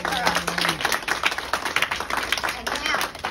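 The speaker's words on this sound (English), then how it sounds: "I'm going to have everybody in here give you a round of applause." Applause from a small group in a classroom, brisk uneven clapping close by for a few seconds, with a voice cheering at the start.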